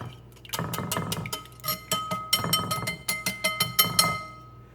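A whisk clinks rapidly against a bowl as vanilla is mixed into a French toast egg mixture, giving a steady run of close, bright metallic taps and scrapes in short bursts.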